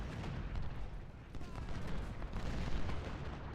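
Cannon and rifle fire crack and boom across a Civil War battlefield in Ultimate General: Civil War, a dense, continuous rumble of distant volleys with irregular louder bursts.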